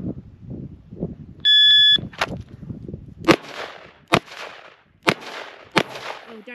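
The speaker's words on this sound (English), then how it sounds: "let's do 2 more rounds on the speed target with the 44 mag" A .44 Magnum revolver fires at a speed target outdoors: a shot-timer beep, then five sharp, loud gunshots spaced about a second apart, each with a short echoing tail, after some faint shuffling.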